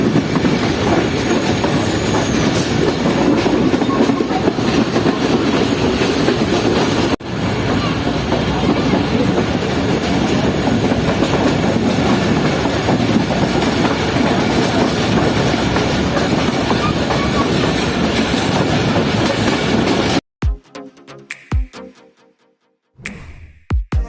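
A moving passenger train rumbles and clatters on the rails in a loud, continuous roar with rhythmic wheel clicks, heard from on board between stops in the evening. It cuts off abruptly near the end.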